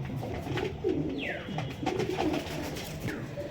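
Wing-clipped, closed-tail pigeons with white, faintly red-streaked eyes, kept as high-flying birds in a Krishnanagar loft, coo in low, rolling murmurs that come and go, fairly near, with no talking.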